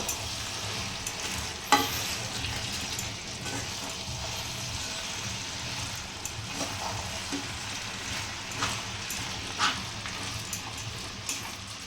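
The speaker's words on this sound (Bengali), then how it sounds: "মাছের যে মাথাটা সেটা আমি দিয়ে একটু ফুটিয়ে নামাবো এইভাবে মিক্স করবো" Fish head stirred into a Bengali cabbage curry in a pan: a steady sizzle and bubbling beneath periodic spoon scrapes and knocks, close and continuous with no one talking.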